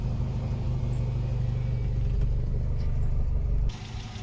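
A 1979 Volga GAZ-24 car engine idles with a low, steady rumble close by, then cuts to quieter background near the end.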